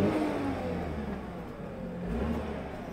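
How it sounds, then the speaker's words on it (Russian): A used car bought at a US auction idles and revs steadily, a low continuous engine drone that swells slightly toward the end, close and alone. "Хорошо работает мотор"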